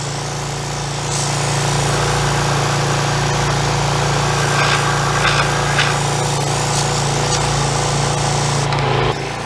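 A cheap dustless sand blaster bought on Amazon running steadily, a loud, constant mechanical drone with a hissing, rattling edge and a few brief sharper bursts, heard alone without talk.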